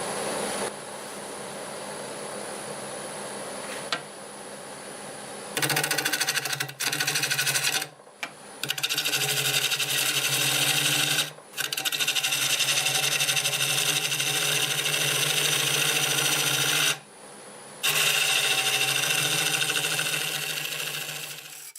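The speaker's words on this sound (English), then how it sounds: "This 5/8 bowl gouge, and I think we're doing about 900 RPM now" A 5/8 bowl gouge cuts cherry burl on a lathe spinning about 900 RPM, giving loud, sustained scraping bursts with a steady motor hum, broken by a few short pauses between passes.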